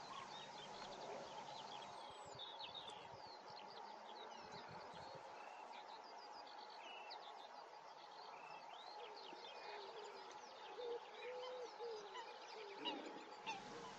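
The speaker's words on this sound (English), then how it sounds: "I can hear lark song all around" Skylark song at Eyebrook Reservoir on a cold April spring day, a faint, far-off stream of high, rapid warbling trills running continuously over low wind and distant background noise.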